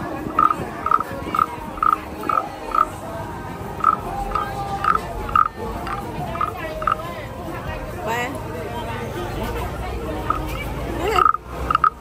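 A wooden frog toy croaks at a busy street market in Thailand, giving a run of short, evenly spaced rasping croaks followed by a few more later on, under crowd chatter and nearby voices.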